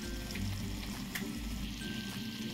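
Fish and brinjal curry with chopped coriander simmers and gets stirred in the pan, giving a soft, steady sizzle and bubbling with faint stirring scrapes, quiet and close, no voices.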